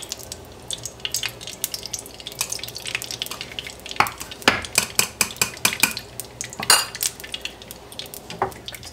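A pan being handled on the stove while ghee heats for samosa stuffing, with repeated metallic clinks and knocks of pan and utensil over a soft background hiss, close and moderately loud.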